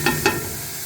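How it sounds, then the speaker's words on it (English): A short stir of a big pot of salted chicken foot and pumpkin soup, two quick soft scrapes over a low steady hiss. "Stir that around."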